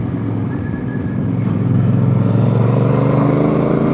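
A Chinese-made motorcycle engine idles with a low, throbbing rumble, then swells as it is revved a little louder and holds at a steady drone.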